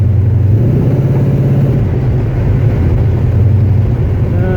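Car engine fed by a Holley carburetor with a freshly changed power valve, running loud and close as a steady low rumble that rises slightly as throttle is applied, with no talk.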